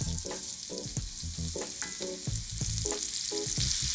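Carrots fry in bacon grease in a pot, a close crackling sizzle broken by repeated rhythmic scrapes and clicks of a spoon stirring, no talk.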